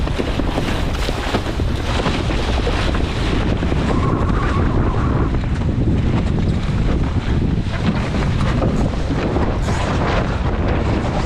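A wind gust roars across the microphone while an RS600 dinghy sails a short course, a loud, continuous rushing blast layered with water and hull noise, with no voices.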